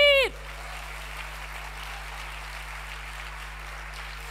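Church congregation clapping at a worship service, a steady broadband patter of many hands sustained for several seconds after a brief voice at the start, with a low hum underneath.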